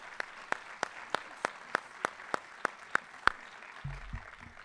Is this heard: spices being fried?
no